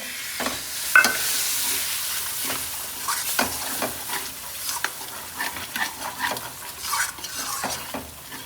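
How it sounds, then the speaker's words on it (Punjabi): Tomatoes stirred into sizzling masala frying in a pan, a steady sizzle under repeated scraping and clinking of a spoon against the pan, close up. "ਹੁਣ ਆਪਾਂ ਇਹਦੇ ਵਿੱਚ ਪਾਉਣ ਲੱਗੇ ਆ ਟਮਾਟਰ"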